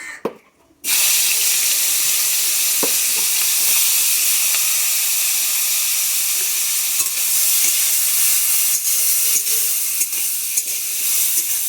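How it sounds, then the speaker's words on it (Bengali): Dried fish (shutki) frying in a pan, a loud dense sizzle that bursts in abruptly after a brief quiet start and holds steady, with occasional faint clicks of stirring, close up and without speech. "তো সবাই প্রথমে যেন শুটকি মাছগুলো ভেজে নেই।"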